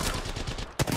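A quick burst of gunfire in an Apex Legends match, rapid shots in a short loud volley with a sharp crack near the end.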